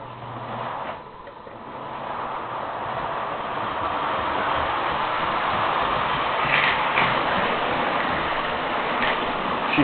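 A Lionel Santa Fe Special toy train set runs along its track, a continuous whirring hum with faint rhythmic clicks that gradually grows louder and steadier, heard without any talking.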